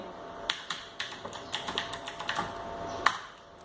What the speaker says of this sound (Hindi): ये पासवर्ड हम टाइप कर लिए